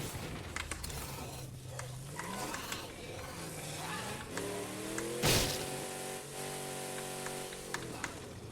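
Game car from State of Decay 2 driving with a steady engine drone whose pitch rises and falls through gear changes, a sharp thump midway, with speech-like sounds mixed in.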